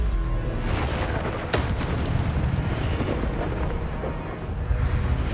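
Incendio fire spell cast in Hogwarts Legacy, a dense roaring burst of flame with booming rumble that fills the whole stretch, steady and loud with a sharper flare near the start.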